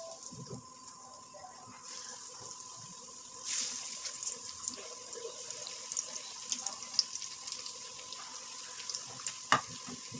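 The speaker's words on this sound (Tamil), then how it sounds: "இப்போ இந்த சூடான எண்ணெயில் நம்ம பொரிச்சிக்கலாம்" Spice-filled bread rolls deep-frying in hot oil on a slow flame, a continuous bubbling hiss punctuated by scattered crackles and a few sharper pops, with no talking.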